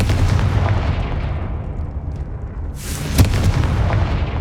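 In the Hogwarts Legacy video game, a Confringo fire spell goes off as a loud, rumbling blast with a sharp crack, over a continuous low roar.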